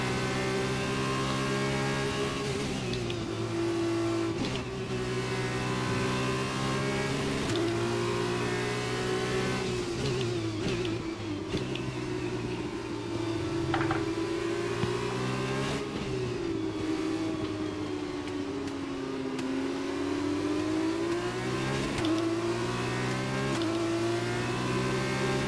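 F1 race car engines in a video game at Britain, a loud, continuous high-revving whine that climbs and drops with gear shifts and throttle changes, close and alone without talk.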